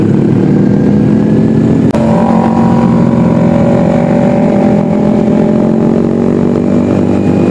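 A loud custom motorcycle engine roars close by, revving and holding a dense, rough drone with a sharp jump in pitch partway through, and no voices over it.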